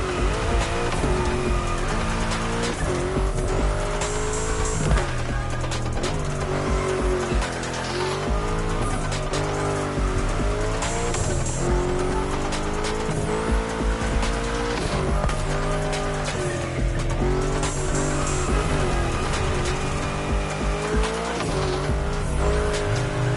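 Race car in The Crew Motorfest video game roaring steadily through bends, its engine pitch rising and falling as the tires squeal and skid at each corner, loud and sustained.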